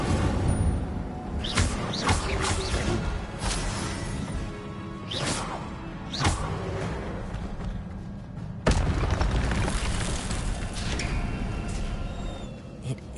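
The Incendio fire spell cast repeatedly in Hogwarts Legacy, a series of sharp whooshing fiery bursts and crackling impacts at irregular intervals over a continuous rumbling game background.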